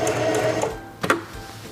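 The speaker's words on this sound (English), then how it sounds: "Press and hold the reverse lever, and sew backwards a few stitches." A Singer 4411 heavy-duty sewing machine stitches in reverse with the reverse lever held, giving a brief, loud, close whirring hum with a couple of sharp mechanical clicks near the end and no talking.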